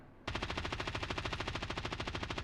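Rapid automatic gunfire bursts out in Call of Duty Warzone, a continuous, evenly paced string of shots lasting a couple of seconds after a quiet start, fairly loud and close.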